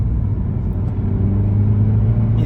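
A Suzuki Swift Sport Hybrid engine revs with a deep, close rumble. The pitch climbs gradually and the engine drones steadily, with no voices.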